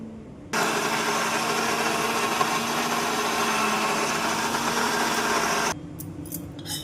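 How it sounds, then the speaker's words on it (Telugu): A mixer grinder whirs again at a steady, even pitch while grinding pesarattu batter thinned with a little water. The motor runs for about five seconds, then stops abruptly. "కాసిన నీళ్ళు పోసుకొని మళ్ళీ రుబ్బుకుందాం."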